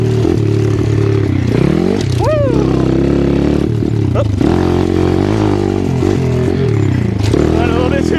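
An X Pro 150 dirt motorcycle engine drones steadily close up on a dirt trail. It sweeps up and down in pitch with the throttle and dips during the downshifts, and wind and clatter sit under it.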